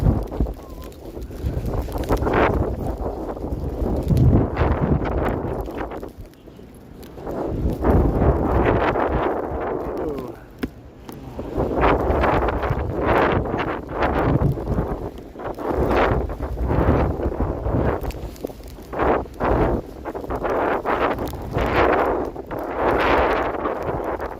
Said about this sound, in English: Windy here. Too windy for my gimbal.